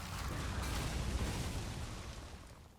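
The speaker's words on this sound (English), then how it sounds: "That's double corpse explosion." A corpse explosion skill going off in a video game gives a dense, rumbling burst of noise that swells and slowly fades, heard on its own without talk.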